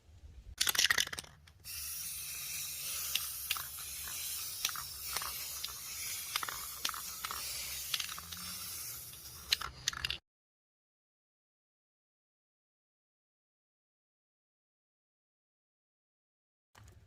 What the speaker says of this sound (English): Now I'm going to be filling the cracks with that Loctite gap spray